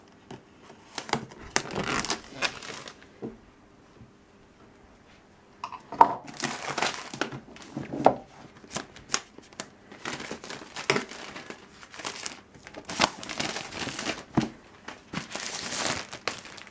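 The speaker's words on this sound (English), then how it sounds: "Let's crack into the box." Cardboard and plastic packaging of a MacBook Pro 13-inch Retina laptop box crinkle and rustle up close in irregular bursts, with brief quiet gaps between handling sounds and no talking.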